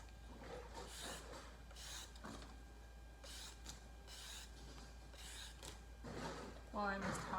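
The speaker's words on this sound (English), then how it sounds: "Now I'm going to peel and grate, I think 2 carrots." Carrots being peeled with a peeler into a bag, a series of soft rasping scrapes in short strokes, faint and close, with a brief voice near the end.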